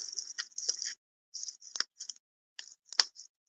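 Wire cutters snip through the wire of a Christmas canvas in several short, sharp clicks. The cuts come close and fairly loud, with brief pauses between them and no voices.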